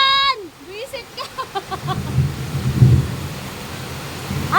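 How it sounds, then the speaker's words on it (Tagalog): Heavy rain with rolling thunder building from about two seconds in, a broad steady downpour roar with a low rumble peaking near three seconds; a voice and tonal calls sound briefly at the start. "Grabe, lakas na ulan"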